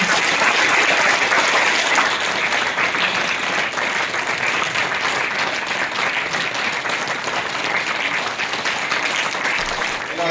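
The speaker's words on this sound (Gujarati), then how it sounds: "આપણે એ બેનને વીર તાળીથી વધાવીશું" A crowd at a village community gathering applauds a woman in sustained, dense clapping that stays loud and even for about ten seconds before easing slightly.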